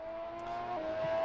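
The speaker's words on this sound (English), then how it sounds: "Ooh, this is very loud. Let me just crank down the car volume ever so slightly." A race car engine in a sim racing game at Monza holds a steady high-pitched drone, loud and continuous with a slight pitch shift, no voices over it.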